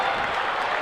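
Gym crowd at a high school basketball game between Gideon and Portageville cheering and applauding after a made three-pointer, a brief dense burst of clapping and noise.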